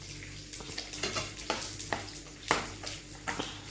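Saved milk cream being broken up and stirred in a nonstick pan to make ghee at home: steady, rhythmic scraping strokes about twice a second over a low frying sizzle.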